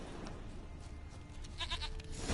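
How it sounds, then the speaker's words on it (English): A goat in The Witcher 3 bleats a few short, wavering calls close by over a steady low ambient background, with no talk. "Here, goat. Here, princess."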